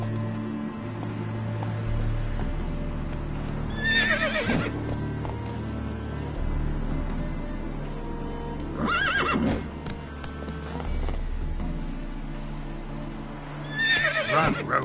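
A horse in The Witcher 3 video game gallops with a steady clip-clop of hooves and lets out three loud, shrill whinnies spaced several seconds apart, with no talking.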